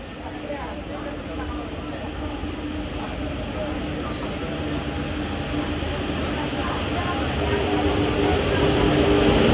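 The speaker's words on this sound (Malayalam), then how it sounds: "ഒരു ട്രെയിൻ ഇതാ ഇങ്ങനെ കടന്നു വരികയാണ്. ഇത് തിരുനെൽവേലി തിരുച്ചെന്തൂർ എക്സ്പ്രസ് ആണ്." The Tirunelveli–Tiruchendur Express approaching on a single-line track, a broad rumbling roar that grows steadily louder as the train nears.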